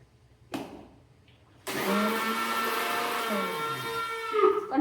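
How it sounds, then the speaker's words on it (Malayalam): A worn-out kitchen mixer grinder, running with onion inside, starts after a brief knock and then whirs loudly and steadily with a harsh motor drone and rising whine for several seconds, no talking over it. "കണ്ടോ എൻ്റെ മിക്സിയുടെ ഒരു സൗണ്ട് കേട്ടോ, പോകാറായി."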